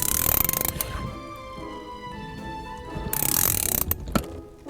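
Equalizer Viper windscreen removal tool ratcheting to the next cut, a close series of rapid mechanical clicks in two bursts with quieter winding between them.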